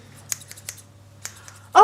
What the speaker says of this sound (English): Yes, I am cutting the bushes.